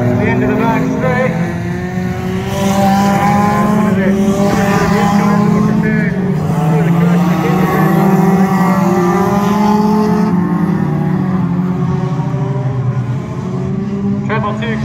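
Banger racing cars thunder around the Crimond track in Scotland, several engines droning loudly and continuously with revving and passing cars, while a commentator talks over the noise.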